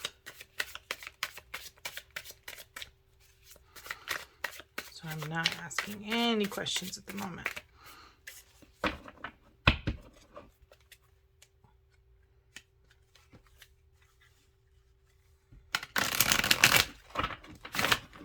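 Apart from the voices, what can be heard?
shuffling a deck of cards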